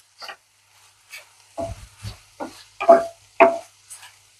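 Ridge gourd curry with red chilli powder is stirred in oil in a pan, heard as a series of short, distinct scraping strokes with only a faint sizzle between them.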